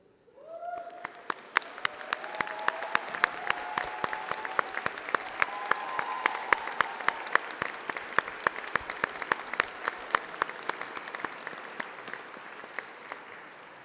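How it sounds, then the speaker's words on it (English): A large crowd applauds steadily at a university graduation ceremony, sustained clapping filling the room at a moderate distance, with a few faint voices underneath. "please stand while we give you a round of applause"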